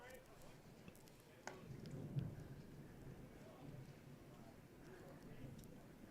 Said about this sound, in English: Thunder to the east of us. Some pretty loud boomers.